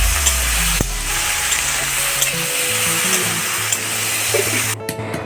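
An egg with turmeric frying in a hot pan, giving a loud, steady close sizzle with a brief clatter near the start and a short pause toward the end.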